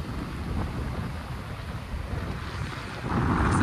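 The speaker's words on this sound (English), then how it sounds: "It's the Pacific Ocean." Pacific Ocean surf washes steadily beside the narrow strip of land at a Tuvalu atoll, with wind buffeting the microphone in a low, continuous roar that swells louder near the end.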